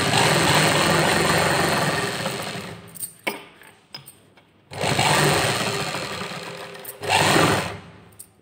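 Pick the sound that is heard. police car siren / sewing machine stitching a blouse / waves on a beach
sewing machine stitching a blouse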